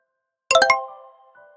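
Mobile phone ringtone going off just after a call is placed: a bright chiming burst of a few quick tinkling notes, then a lingering sustained tone that fades, clear and close with no talk.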